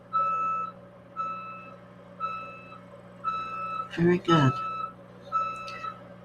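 Steady electronic vehicle reversing beeps repeat about once a second, with a voice speaking briefly over them midway.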